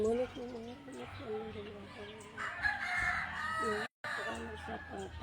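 Roosters and fighting chickens on a farm crow repeatedly with rising and falling calls and clucks, close by and overlapping, while people talk over the birds.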